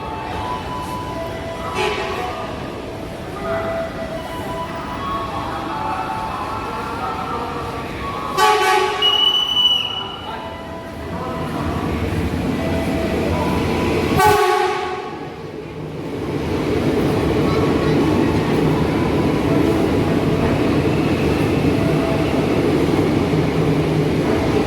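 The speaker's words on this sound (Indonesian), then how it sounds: "Oh, kereta bandara lewat jalur 1." An airport rail train passes through Tanah Abang station in Jakarta, a steady rumble of wheels on track with short horn toots partway through, then a louder, sustained roar as it runs by.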